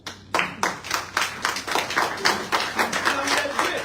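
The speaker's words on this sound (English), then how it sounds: "our brother, attorney Malik Zulu Shabazz, a round of applause." Audience at a Black Men's Movement gathering claps for an attorney, a series of distinct, fairly close handclaps in an uneven rhythm that build to a denser patter.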